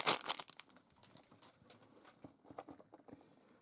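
Plastic bags crinkle and rustle while a Mega Barbie GWR79 beach convertible toy set is unpacked, starting with a loud close crunch and continuing as softer, irregular crackles and taps.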